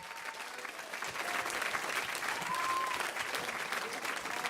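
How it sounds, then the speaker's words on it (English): An audience applauds the winner at a launch event, a thick continuous wash of clapping from many hands, steady and fairly loud from start to finish, with faint crowd murmur underneath. "A massive round of applause for the winner!"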